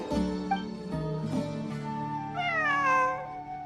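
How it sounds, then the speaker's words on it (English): A cat meows several times in the Genshin Impact Fieldwise Center ruin exploration story quest, with clear, drawn-out cries that rise and fall and the longest near the end, over a soft game background. "It really is a cat."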